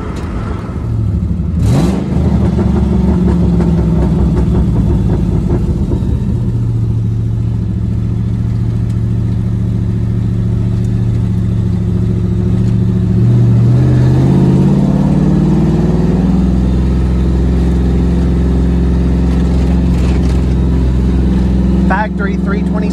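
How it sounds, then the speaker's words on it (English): A Mustang GT V8 with an exhaust leak idles loudly up close and revs, its deep rumble rising and falling steadily, with people talking over it. "It's got a little exhaust leak about right there, it sounds like."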